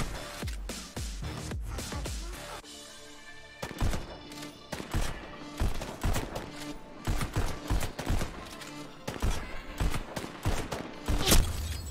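Rapid gunshots ring out in the VR shooter Pistol Whip on PSVR2, sharp bursts firing in uneven volleys over a pulsing music track, loud and close throughout.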